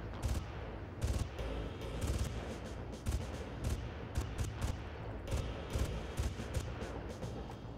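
Rapid bursts of gunfire in the video game Far Cry, dense overlapping shots and short volleys crackling steadily throughout, loud and continuous with no talking.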